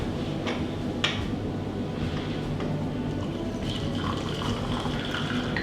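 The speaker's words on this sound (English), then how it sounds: "We've allowed our tea to infuse or brew for the trusty strainer." Brewed loose leaf tea pours steadily through a strainer into a cup, a continuous close liquid trickle with a few small clinks of the strainer, no talking.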